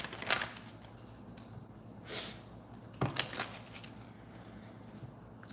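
Tarot cards shuffled by hand in a few short, papery riffling bursts, with quiet gaps between them and no talking.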